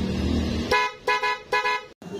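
Dual loud horn wired onto a vehicle blasting a few short, loud honks, with one long low tone at the start followed by three shorter bursts separated by brief gaps.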